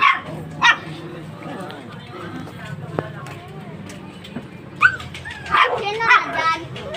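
Several dogs bark and yip at a visiting puppy, with sharp bursts near the start and a louder cluster of barks and whimpers toward the end, while a person talks throughout.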